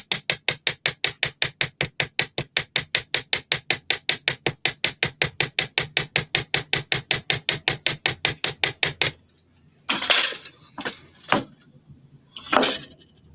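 Rapid, evenly spaced metallic hammer taps on metal earring wire repeat for about nine seconds, followed by a few louder scraping knocks.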